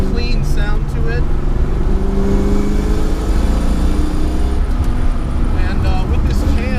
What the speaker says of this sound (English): With the new Mac headers, it's got a nice clean sound to it.